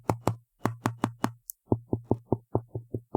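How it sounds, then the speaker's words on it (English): Dull, muted taps on a foam-dampened Epomaker AK820 Pro mechanical keyboard, about fifteen evenly paced knocks in two quick runs with a short pause between, close and fairly quiet. "you can hear it in the back too, when I tap on it"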